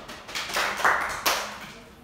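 High school students in an English class in the Philippines clap in a short uneven burst, a few loud sharp claps clustered together and then trailing off, close by in a room.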